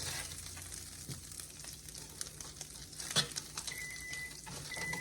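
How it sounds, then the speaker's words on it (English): Butter melts and sizzles in a hot skillet already used for cooking beef, a quiet, steady crackling hiss with a few louder pops and a faint scrape, heard close with no talking. "add in 3 tablespoons of butter and get that melted"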